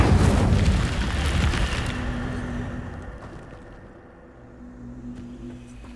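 A fire spell cast in Hogwarts Legacy, a loud burst of roaring whoosh at the start that rumbles and fades over several seconds, with a low hum lingering beneath and no talking.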